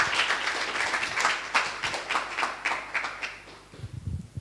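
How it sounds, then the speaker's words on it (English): Audience applause at a live Cosmos privacy event in Prague, a steady wash of many hands clapping for several seconds that thins out toward the end. "let's clap"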